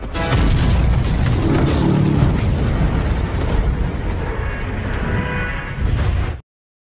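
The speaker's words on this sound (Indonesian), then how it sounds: "Kejadian itu menimbulkan ledakan yang sangat dahsyat." A very powerful explosion roars loud and close, a sustained broadband blast rumbling for several seconds before cutting off abruptly.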